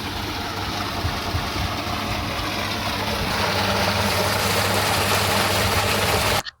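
A motor driving a water pump on a papaya farm drones steadily and loudly without a break, then cuts off abruptly at the end.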